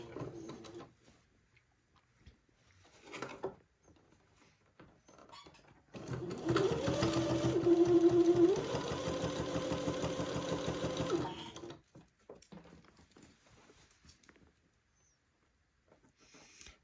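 A sewing machine stitches bias tape onto a Chery Williams jumpsuit, running a short anchoring burst backward and forward, then a steady stretch of fast mechanical whirring with its rapid needle chatter, bracketed by quiet handling noises.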